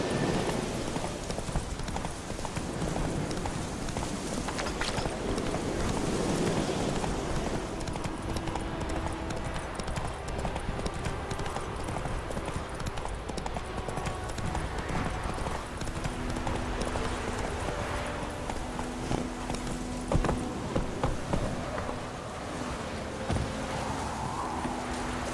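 A horse gallops in The Witcher 3 video game, its hooves pounding in a fast, steady clip-clop rhythm that runs on for a long stretch amid outdoor game ambience.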